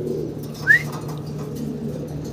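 A single short king pigeon call rises once over a steady low hum and faint background murmur, brief and fairly close.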